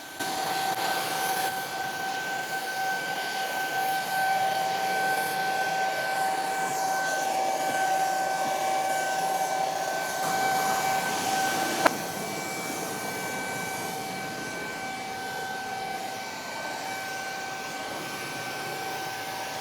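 Paint sprayer running with thinned paint and a smaller nozzle, giving a steady, loud mechanical whine and airy hiss that holds throughout, broken by a single sharp click midway.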